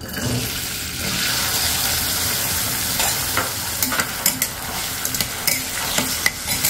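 Potatoes dropped into 4–5 spoons of hot oil in a pan for a mixed vegetable dish, giving a loud, steady sizzle that carries on throughout, with scraping stirs and small crackles building toward the end.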